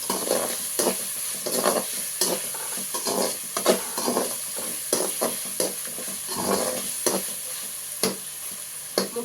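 Crab masala frying and being stirred in a pan, a continuous close sizzle broken by repeated scraping stir strokes, with no talking.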